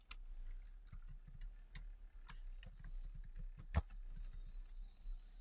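Typing on a computer keyboard, quiet irregular clicks and taps of keys in short bursts, close and soft, with one sharper key strike.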